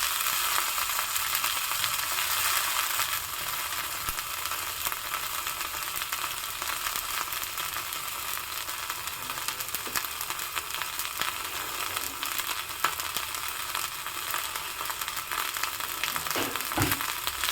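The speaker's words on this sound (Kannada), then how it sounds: "ಈ ನೆನೆಸಿರುವಂತಹ ನುಗ್ಗೆ ಸೊಪ್ಪು ಹೂವನ್ನು ಈಗ ಎಣ್ಣೆಗೆ ಹಾಕ್ತಾಯಿದ್ದೀನಿ" Soaked drumstick flowers sizzle in hot oil in a village-style home kitchen, giving a loud, continuous hissing fry with fine crackles and an occasional stirring clink near the end.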